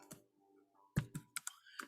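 Keys clatter on a computer keyboard during a programming session, a few quiet, sharp clicks in an uneven cluster, faint and close with no talking.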